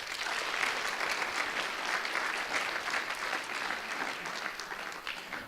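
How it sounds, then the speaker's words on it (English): A studio or hall audience gives a warm, sustained round of applause to welcome interview guest John Hilton, dense steady clapping with no talk over it. "Let's give him a warm round of applause"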